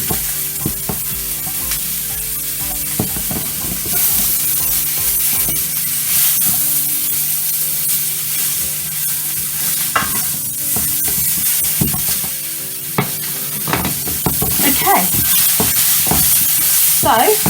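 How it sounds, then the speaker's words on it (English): Sausage sizzles steadily in a hot frying pan over low heat while a utensil stirs and scrapes it, with clattering bursts around the middle and near the end, all close and continuous with no talking. "keep going with this until the sausage is warmed up and it's got a bit of browning on it"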